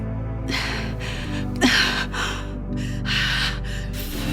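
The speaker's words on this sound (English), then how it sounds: "I need you to keep breathing evenly." A woman in labor breathes heavily in a series of loud, ragged gasps and breaths, roughly every half second to second, over a steady low humming background.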